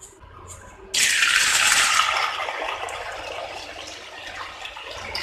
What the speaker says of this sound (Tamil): இப்போ இதில் இந்த நூடுல்ஸ்லேருந்து நம்ம பாதி அளவு நூடுல்ஸை வந்துட்டு இப்போ ஃப்ரை பண்ண போகிறேன்